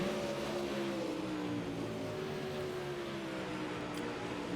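IMCA modified race cars roar around the Port Royal dirt track, a steady continuous engine drone with a gently falling pitch as the cars sweep down the backstretch, heard from a distance without talk.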